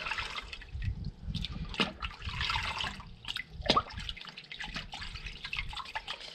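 Water swished around inside a knobbed whelk shell, quiet irregular sloshing and gurgling with small drips and splashes, close and soft.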